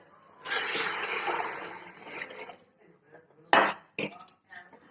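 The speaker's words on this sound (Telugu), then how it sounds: "ఇప్పుడు వాటర్ వేసుకోవాలి" Water pours steadily from a vessel into a pot of rice being cooked for chicken biryani, a continuous splashing gush for about two seconds, then a few short clinks and taps of utensils.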